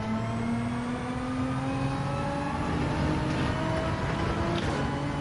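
A GR4 race car engine in a racing video game drones steadily with a rising pitch, a continuous near whine held at moderate loudness, with no talk over it.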